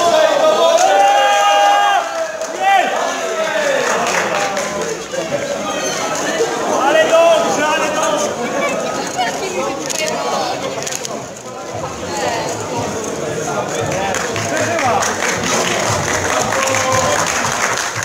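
Audience at a printers' initiation ceremony applauding and cheering, a dense, loud wash of clapping and voices that carries steadily throughout with a brief dip partway.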